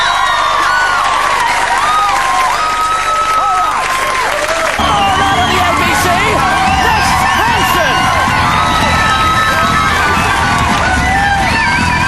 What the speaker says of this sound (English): 40 screaming pre-pubescents out the front of the studio